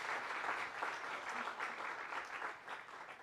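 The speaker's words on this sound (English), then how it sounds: "can we give a round of applause to parents and students again for graduating from high school" A church congregation's round of applause for graduating high school and college students and their parents, a lively clapping crowd with pulsing intensity throughout the short stretch.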